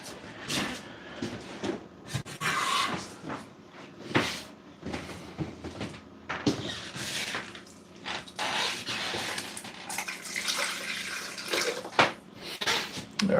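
Water runs and splashes into a large constrictor snake's tub for about thirteen seconds, a steady rushing pour broken by knocks and clatter of handling, fairly close, with no one speaking.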